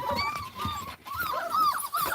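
Small poodle or doodle puppies whimper and yip with high, thin cries, several overlapping close by in quick bursts, with a soft background rustle.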